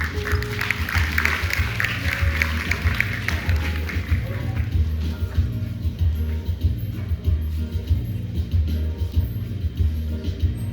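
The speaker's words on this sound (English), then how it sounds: "Let's put our hands together" At a school final assembly award ceremony, an audience applauds a class awardee with scattered, tapping claps. A steady low hum runs underneath throughout the roughly ten-second stretch.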